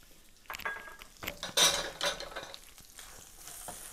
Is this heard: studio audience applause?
no